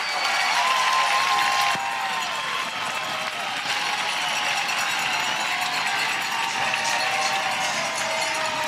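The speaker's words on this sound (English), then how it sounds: "And the hometown crowd loves it." A home crowd at a professional AUSL softball game, Chicago Bandits against Portland Cascade, cheers and claps steadily, a loud broad roar that holds evenly throughout with no break.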